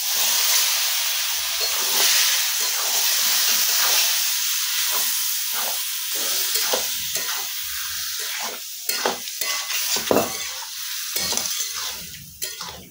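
Spiced masala and chunks of ash gourd frying in hot oil in a pan, a loud continuous sizzle and hiss that is broken by frequent scraping stirs, close to the pan.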